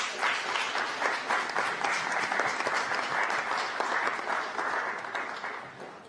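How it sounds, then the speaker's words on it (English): Audience applause for debaters at a Jamaican general election debate on social issues, a steady, dense wash of clapping hands filling the hall for about six seconds without a break. "You can clap."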